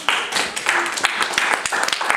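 A church congregation at a Spanish-language sermon breaks into loud, sustained applause, with many overlapping hand claps forming a dense wash close by.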